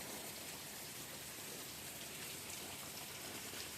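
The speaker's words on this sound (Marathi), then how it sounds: "सकाळी सकाळी बघा कसा पाऊस पडतो आहे." Morning rain falls steadily on surfaces outside a house, a dense even hiss of countless drops at moderate distance, continuous and unbroken with no voices.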